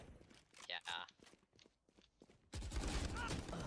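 Gunfire in a Valorant free-for-all deathmatch: rapid shots and footsteps crackle in the game, with bursts of loud, dense firing near the end, while players talk over the action.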